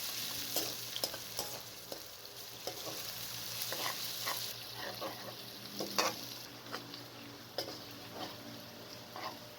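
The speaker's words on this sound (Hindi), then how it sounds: "मज़ीद 1 से 2 मिनट भून लें।" Onions, garlic and ginger sizzle quietly in a pan for aloo gobi, with the scrape and tap of stirring at irregular intervals.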